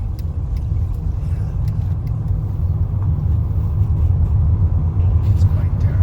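A car creeps through narrow streets on Leros, passing right beside building fronts and house walls; a steady, close engine and road rumble runs throughout with no talk.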